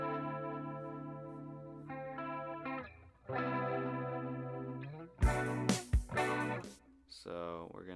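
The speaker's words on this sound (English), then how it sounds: "Then we're gonna have the drums come in." A distorted, chorus-laden electric guitar intro plays alone with sustained chords, then punchy drum hits enter near the end, with a brief gap before the kit comes in.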